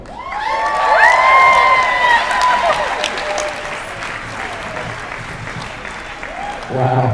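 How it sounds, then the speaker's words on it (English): Audience applause and cheering at a hip hop performance, loud and sustained with whoops from the crowd, tapering off before a brief burst near the end. "One more round of applause."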